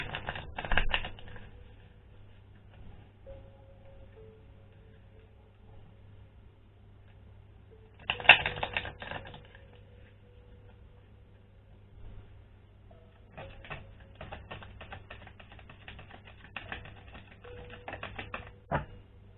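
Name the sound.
shuffling Starseed Oracle cards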